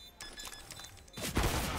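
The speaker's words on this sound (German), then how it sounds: "Ah, der hat Schuss durch den Zug." Gunfire bursts during a Counter-Strike match on the Train map, played at a DreamHack Open Atlanta 2019 esports event: a few sharp rapid shots, then a louder, denser blast of fire near the end.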